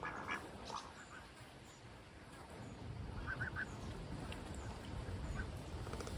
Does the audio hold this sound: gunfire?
no